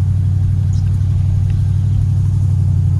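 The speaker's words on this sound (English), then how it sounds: "It's got a nice rumble to it. A couple exhaust leaks there, but you know, that adds to the rumble." A 1976 Cadillac Fleetwood idles with a deep, steady low rumble, its exhaust leaks adding a rough throb, heard close and alone.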